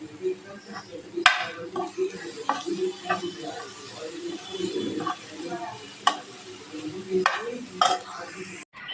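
Chicken pieces with chopped coriander stir-fried for a chicken roll, hissing steadily in the pan while a spatula scrapes and clacks against the metal in irregular strokes, close and unaccompanied by speech.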